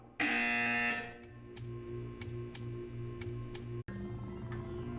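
A harsh electronic buzzer sounds once in a Portal 2 test chamber, loud and sustained for under a second, followed by a series of quieter regular ticks and clicks over a low background hum.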